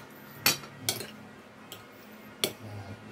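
A fork stirs goat kilawin in a bowl, giving a few sharp metallic clinks at irregular intervals against a quiet background.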